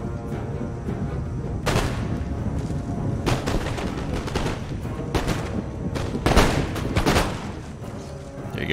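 Musket volleys from massed line infantry in the Empire: Total War video game, a dense crackling roll of gunfire with several sharp bursts standing out over continuous battle din.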